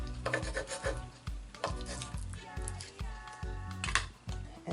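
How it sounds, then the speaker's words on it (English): A decal is burnished onto a wooden charcuterie board with repeated rubbing strokes, close and fairly quiet, in an even back-and-forth rhythm of about two strokes a second. "then we just burnish that in place to make sure it stays"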